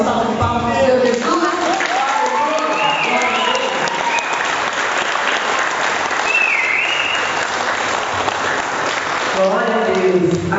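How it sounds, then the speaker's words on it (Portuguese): A church congregation gives a round of applause for Jesus, a loud, sustained wash of clapping and cheering, with voices and musical tones heard at the start and end. "Uma salva de palmas para o Senhor Jesus"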